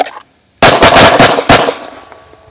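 Rapid string of handgun shots at close range during a shooting drill, roughly six or seven sharp reports in quick, even cadence after a brief pause, then echoing decay.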